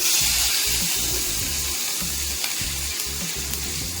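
Crushed garlic goes into a spinach stir-fry frying in a pan, with a continuous sizzle and rhythmic scraping strokes of stirring close by.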